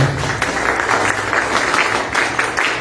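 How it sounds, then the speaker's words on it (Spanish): Steady applause from a crowd, dense clapping that holds at an even level throughout. "a quien pido recibir con fuertes palmas, por favor"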